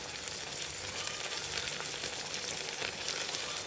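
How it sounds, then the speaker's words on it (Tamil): Green chillies, curry leaves, coriander and mint frying in ghee for basmati ghee rice, a steady close sizzle and crackle with no talk. "இப்போ பச்சை மிளகாயும் வதங்கட்டும்."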